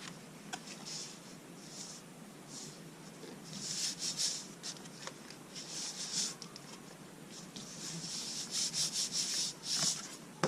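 Paper being rubbed down to stick it onto a handmade birthday card, with soft, close, intermittent rubbing and scraping strokes at a quiet level.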